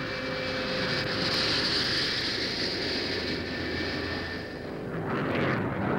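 A plane flying overhead produces a steady, continuous engine roar and broadband rumble, moderately loud and unbroken, with a slight dip and swell toward the end.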